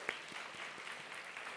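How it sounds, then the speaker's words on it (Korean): An audience at a church college-ministry service claps for the staff, a brief dense patter of applause, moderately distant and fairly faint. "스태프분들 감사의 박수 다시 한번 보낼까요?"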